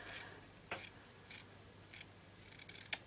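Scissors snip through a folded piece of organza fabric in a few short, crisp, quiet cuts spaced irregularly, close by in a quiet room.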